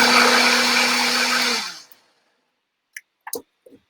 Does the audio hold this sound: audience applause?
no